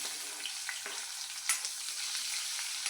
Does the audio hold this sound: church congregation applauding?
no